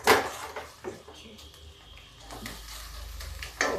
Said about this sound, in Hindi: अब मैं इसको भी इसी में भून लेती हूँ, क्योंकि ये डंठल है इसलिए थोड़ा सा डंठल इसी वक्त डालें।